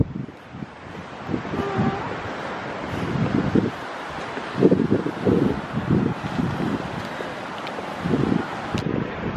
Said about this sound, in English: The wind is blowing, but it's beautiful.